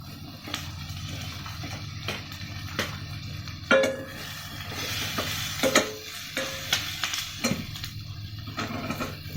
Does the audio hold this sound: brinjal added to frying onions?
yes